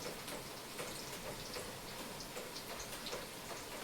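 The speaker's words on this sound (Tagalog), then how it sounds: "Umuulan na naman siya guys." Steady rain falls on a rainy day in the Philippines, a dense, even hiss of drops with scattered sharper ticks on a surface, continuous and fairly soft throughout with no voices.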